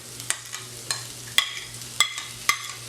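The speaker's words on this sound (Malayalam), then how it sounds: "തക്കാളിയും ക്യാപ്സിക്കവും സവോള എല്ലാം കൂടെ നന്നായി വഴണ്ട് വരുമ്പോൾ" Onion, tomato and capsicum sautéing in a pan for a paneer bread toast, with a soft steady sizzle under several sharp spoon taps and scrapes against the pan, close and moderately loud.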